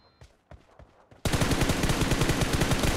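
Automatic gunfire in the PUBG Mobile battle royale game, a few sparse shots at first, then a loud, dense sustained burst of rapid rounds that continues to the end.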